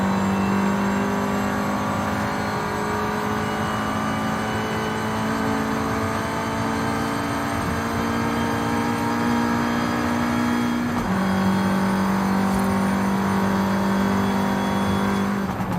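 A 2014 Volkswagen Golf R's 2-liter engine drones loud and steady under acceleration, its pitch holding high before a gear change drops it briefly, then climbs again, with no talk.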